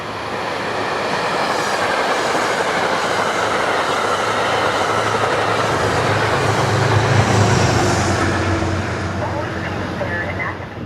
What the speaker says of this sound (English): greeted immediately by the same unit shoving a train to Grand Central